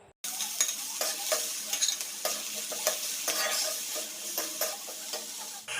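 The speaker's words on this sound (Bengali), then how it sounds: "এক এক পেঁয়াজ, কাঁচা লঙ্কা, আদা রসুন দিয়ে নেড়ে চেড়ে সামান্য একটু ভেজে নেব" Onion, green chili, ginger and garlic frying in a pan while being stirred: a bright, close sizzle with regular scraping spatula strokes throughout and no speech.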